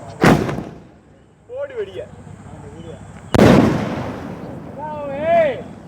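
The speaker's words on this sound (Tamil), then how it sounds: "இதை பாருங்கள் வெடித்து காட்டுறோம்" Two peacock-type firecrackers are set off as a demonstration: each begins with a sharp, loud bang, followed by warbling, whistling crackles. The second burst is bigger and longer than the first.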